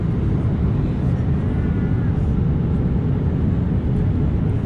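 On a TUI Boeing Dreamliner flight, cabin noise forms a loud, constant low roar of engines and airflow with no breaks, and soft voices are faintly present within it.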